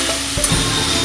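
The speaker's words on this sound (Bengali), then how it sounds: "এই আলুগুলোর সাথে ছেড়ে দিলাম। এবার আমি একটু ফ্রাই করব হালকা।" Potatoes frying lightly in ghee in a pan for a Bengali potato payesh, giving a steady, close, soft sizzle with a faint stir or scrape partway through and no talking.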